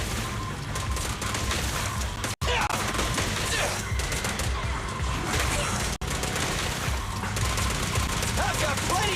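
Dense, continuous volleys of gunfire from Zenless Zone Zero combat against ethereals, rapid bursts overlapping with clashing impacts, loud and unbroken across the clip apart from two brief dropouts.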